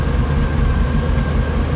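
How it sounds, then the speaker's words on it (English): A 1959 Cadillac Eldorado Biarritz convertible V8 running with dual exhaust, a deep steady rumbling drone close by with no change in pitch. "I hear it spewing with the dual exhaust."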